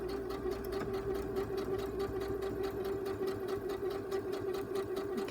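A sewing machine stitches a zip with a rapid, even mechanical whir and fast regular clicking, running continuously at close range without speech.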